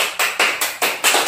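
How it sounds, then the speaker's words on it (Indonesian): Short bursts of classroom clapping for a student group, about six sharp rhythmic pulses close by and fairly loud, with no voices over them. "Bagus, tepuk tangan untuk kelompok 2."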